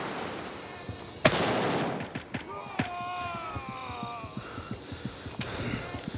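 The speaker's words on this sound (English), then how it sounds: "You can stabilize, take your time to aim, and let one off" A single gunshot from a firearm in the tactical shooter game Gray Zone Warfare, a sharp loud crack followed by a ringing tail and scattered distant shots and clicks, with no voices.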